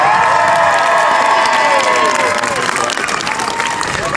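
A dense outdoor crowd at a political campaign rally cheers and applauds loudly and continuously, with whistles and excited voices rising over steady clapping, close and full throughout.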